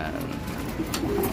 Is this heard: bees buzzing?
no